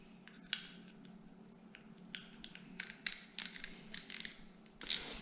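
A fishing reel's spool being fitted back onto the reel during cleaning, giving a run of small clicks and plastic-metal knocks that grow sharper and more frequent toward the end, close and fairly quiet.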